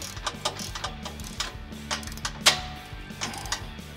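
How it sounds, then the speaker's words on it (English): A 19 millimeter socket wrench ratchets as bolts are tightened on a Jeep Wrangler JK front bumper, with rapid clicking pawl sounds, close and steady, over a low background hum with no talking. "we're going to use a 19 millimeter socket to tighten the bottom one."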